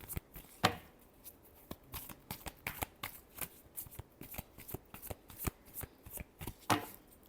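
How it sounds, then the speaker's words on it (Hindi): Tarot cards shuffled by hand in a quick run of crisp riffles and slaps, close and clear, repeating in short bursts with no talking over them. "Last shuffle."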